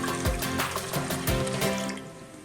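Two cups of water pour into a container for a quick pickling brine, a continuous close splashing fill with faint bubbling that eases slightly toward the end.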